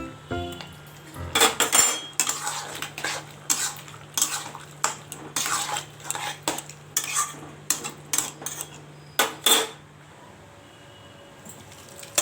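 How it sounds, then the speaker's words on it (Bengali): A metal spoon scrapes and knocks repeatedly against a pan while fried soybean and pumpkin curry is stirred, close and fairly loud in irregular bursts, with a faint low hum beneath and a quiet pause at the end. "তো ভালো করে নাড়াচাড়া করে একটু চিনি দিয়ে দিলাম।"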